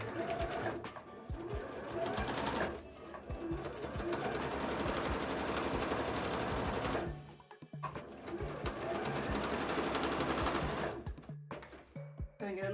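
A sewing machine stitching thick fabric for a molded cosplay piece on a loose stitch setting, running in long fast buzzing bursts with a brief pause between runs, close and loud.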